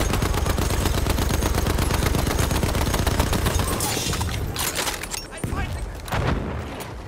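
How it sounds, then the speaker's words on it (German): Enemy machine gun fire in Battlefield 1 rattles in a loud, rapid, continuous burst for several seconds, then thins into scattered shots and battlefield noise. "Feindliches Maschinengewehr."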